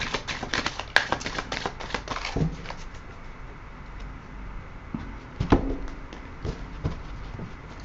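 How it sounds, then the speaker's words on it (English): Tarot cards being riffle shuffled, quick bursts of crisp fluttering clicks separated by pauses and soft handling taps, close and quiet. "I'm going to put another rifle and shuffle on these."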